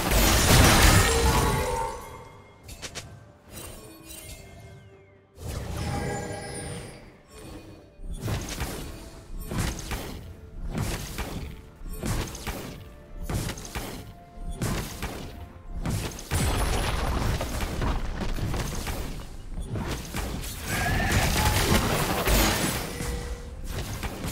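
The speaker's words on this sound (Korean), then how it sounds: "팀의 포탑이 파괴되었습니다." A turret being destroyed in League of Legends mid-lane play brings a series of crashing, shattering impacts and thuds, repeated heavy hits with brief pauses between, loud and close.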